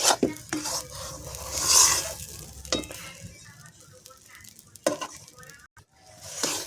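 Taro paste (kochu bata) being stirred and fried in a pan gives a close scraping, stirring noise over a soft sizzle, with a few sharper scrapes against the pan.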